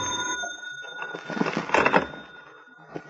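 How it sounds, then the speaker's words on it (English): Telephone ringing as a radio drama sound effect, an old-style bell ring rising briefly in the middle of a soft, hissy background, moderately near. "It was about 4 in the afternoon when the phone rang."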